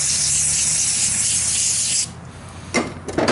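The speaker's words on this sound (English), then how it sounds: "Spray some brake cleaner on a shop rag or something." Brake cleaner sprays onto a shop rag in a loud, close, continuous hiss lasting about two seconds, followed by quieter rustling and a couple of short bursts as the rag is handled in an auto repair setting.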